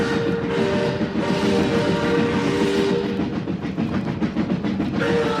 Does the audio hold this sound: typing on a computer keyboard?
no